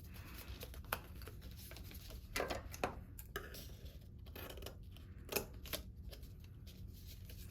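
Scissors trimming woven bowl material: a few faint, sparse snips and crisp cuts in a quiet room, with soft handling rustle between them.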